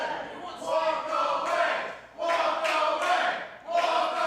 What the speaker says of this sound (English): Crowd imploring this young man to simply walk away from Stephon Pennington.